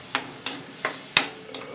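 Raw tomato puree and ginger-garlic paste fry in a pan for chole masala as a spoon stirs through it. Five evenly spaced scraping strokes sound close and clear over a soft, steady sizzle.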